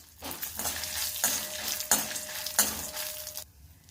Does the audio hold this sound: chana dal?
yes